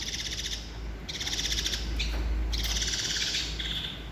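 Two baby birds being hand-fed give shrill, rapid begging calls in repeated bursts, loud and close, with short pauses between the chirping runs.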